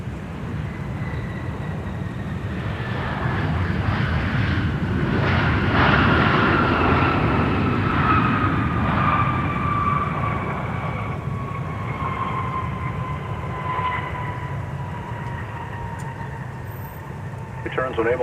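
A Sun Country passenger airliner, flight 604 from Phoenix, arrives at Minneapolis–St. Paul Airport, its jet engines rising to a loud, broad roar with whining tones, then easing back as it rolls past and continues steadily at a distance.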